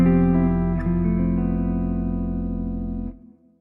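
A guitar rings out a cluster chord voicing over F for a Lydian sound, one sustained strum through an effects chain that lets the tight dissonant notes hang evenly for about three seconds before cutting off.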